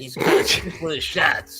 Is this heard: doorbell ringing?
no